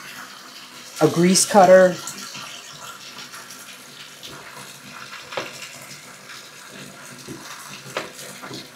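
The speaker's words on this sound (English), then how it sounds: "filling the tub with the hottest water that will come out of the faucet" Hot water runs steadily from a faucet into a bathtub, a constant near rushing hiss beneath a person speaking briefly.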